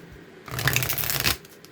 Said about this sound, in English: let's get a good shuffle to clear this deck